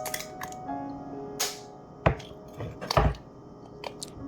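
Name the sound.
cracking eggs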